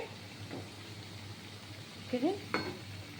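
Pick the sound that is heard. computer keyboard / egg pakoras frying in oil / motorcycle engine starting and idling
egg pakoras frying in oil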